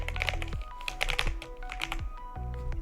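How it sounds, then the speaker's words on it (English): Quick clicking keystrokes tap out on a computer keyboard while switching to Chinese input, rapid and close, over a steady low hum with a few falling tonal blips. "Okay, so I'll go to my Chinese keyboard."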